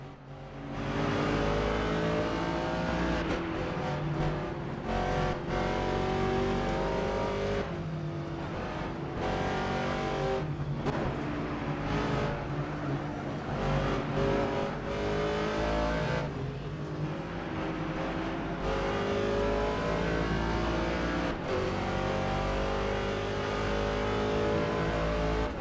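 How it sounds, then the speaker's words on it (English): The NASCAR Garage 56 race car in a racing video game mod roars loudly and continuously. The engine climbs through revs, drops on shifts and lifts for corners, and there is no talk over it. "now I'll let you guys listen in for a few seconds on the raw engine"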